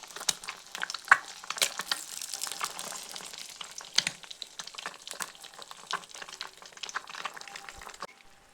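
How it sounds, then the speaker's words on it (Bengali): Four eggs scrambled and frying in oil in a wok, a bright, crackling sizzle throughout with occasional sharp taps and scrapes of a spatula, close and unaccompanied by speech. "এরপর ডিমগুলি এই তেলের মধ্যে ছেড়ে গুঁড়ো করে ভেজে নিচ্ছি।"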